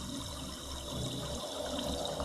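River water babbles and rushes in a steady, continuous flow, soft and even, with no voices present.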